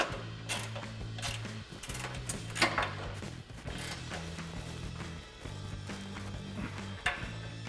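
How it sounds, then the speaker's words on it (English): Two 21mm wrenches ratchet a bolt tight on a rear bumper bracket of a 2022-2024 Toyota Tundra, a rapid clicking that comes in repeated bursts with short pauses, close and fairly steady. "we're going to have to use 2 21mm wrenches to tighten up this 3rd bolt"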